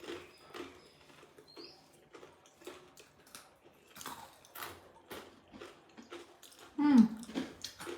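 Crunchy homemade rice murukku, a Diwali snack, is chewed up close, giving sharp brittle crackles and snaps in irregular bursts while people talk between bites.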